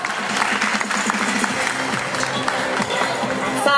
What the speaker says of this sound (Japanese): 阿久さんに大きな拍手をお願いいたします。